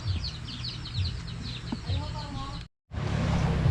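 Newly hatched chicks and chickens on a rural Philippine farm cluck and chirp steadily close by, with a brief cut to silence before the clucking resumes.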